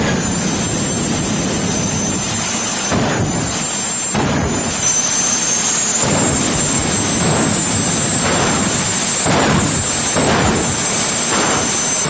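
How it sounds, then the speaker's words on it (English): A jet dragster lights its afterburner at launch on a drag strip, a loud, continuous roaring jet blast with a high whine on top and rhythmic surging pulses, close and overwhelming. "I step on one button that's mounted in the floor of the car and release the brake, and that lights the afterburner"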